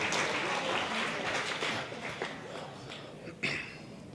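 Wedding guests applaud the bridal party during speeches, a brief burst of dense clapping that fades gradually over a few seconds.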